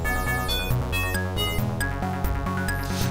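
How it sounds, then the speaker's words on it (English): Chiptune-style music from the DOS version of Lemmings played through a limited sound chip: bright, buzzy square-wave melody over a pulsing bass line in quick, regular steps, loud and alone. "Yes, limited sound chip. It's also why the music sounds like this."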